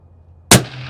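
A single sharp gunshot from a DIY rifle fitted with a scope cracks out of near silence. It is loud and close, with a short decaying tail, outdoors at a shooting range.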